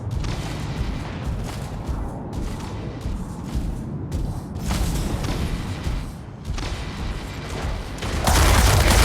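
Rapid gunfire bursts and booming weapon blasts from the mech combat video game Mech Arena, loud and dense throughout, swelling into a heavier roar near the end, with no talk over it.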